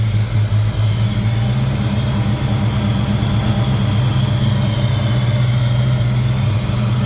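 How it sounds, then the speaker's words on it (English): A 1990 Ford Mustang LX with the 5.0 V8 idling just after a cold start, a loud, steady low rumble with an even throbbing pulse, close to the engine and without talk. "And that was a cold start on the car."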